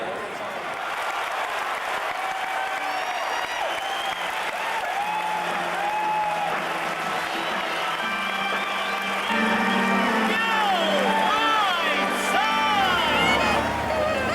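A packed crowd of 40,000-plus at Old Comiskey Park in the 1980s roars and applauds in a long, sustained wave that grows louder toward the end, with a voice talking over it.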